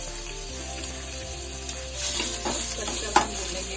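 Ginger garlic paste frying and being stirred in a pan for a keto egg dish: a continuous close sizzle with scraping stir strokes growing busier midway and one sharp clink near the end, with no talking.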